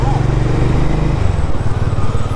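A Harley-Davidson X440 motorcycle engine idling and revving close by, a loud continuous low throbbing rumble that shifts in pitch partway through, with a voice faintly underneath.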